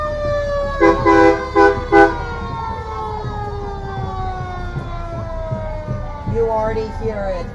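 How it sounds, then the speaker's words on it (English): Fire engine sirens from the Lake Cunningham Fire Department wail loudly at a Christmas parade with long falling tones, punctuated by short horn blasts near the start; voices sound faintly underneath. "You can already hear their sirens."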